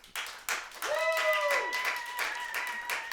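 Comedy-club audience at a stand-up show clapping and cheering to vote for a comedian in a tiebreaker, sharp individual claps building into a burst of applause, with whoops and shouting voices rising over it.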